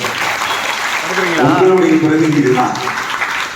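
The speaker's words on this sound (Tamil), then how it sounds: "கைதட்டுங்களேன்." Parents and teachers at a school PTA meeting clap hands in a short burst of applause that swells in the middle, mixed with a speaking voice over a public-address system.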